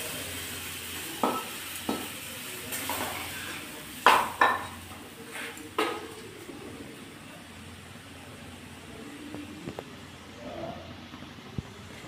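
Stuffed naan pieces frying in a pan, a soft, steady sizzle under several sharp clinks and knocks of utensils against the pan.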